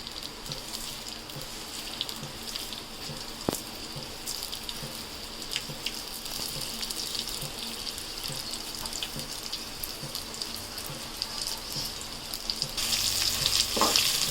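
Coriander and cumin seeds fry in a pan with a steady, soft crackling sizzle throughout, a brief sharp clink near the middle, and a brighter, louder hiss toward the end.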